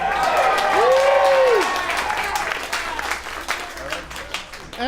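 Studio audience at a live comedy podcast taping breaking into applause and cheering, a loud crowd wash with whoops that fades into scattered claps while voices talk over it.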